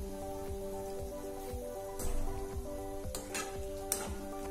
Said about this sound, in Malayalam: നന്നായിട്ടൊന്ന് തിളച്ച് വരട്ടെ